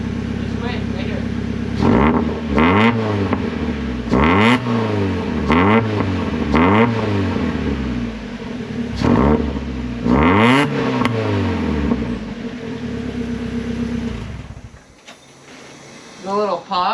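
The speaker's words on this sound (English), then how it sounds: "what the exhaust sounds without this on" A Mazda Miata's exhaust revs repeatedly in short bursts with little pops between throttle blips, loud and close, before the engine settles and fades near the end.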